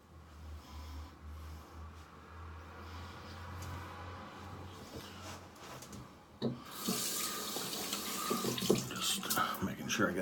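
Tap water runs while shaving soap is rinsed off the face, starting quietly. It turns into a louder, splashing stream partway through, with faint breathing underneath.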